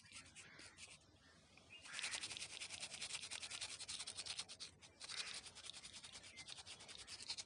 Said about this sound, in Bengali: এখন আমি কি করবো, এগুলোকে ভালো করে ঘষে নেব। চতুর্দিকে ভালো করে ঘষে নেব।